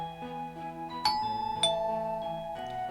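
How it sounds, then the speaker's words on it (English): A doorbell in the Corpse Party: Book of Shadows video game rings with two bright ding-dong chimes over soft background music, clear and fairly quiet. "I rang the doorbell."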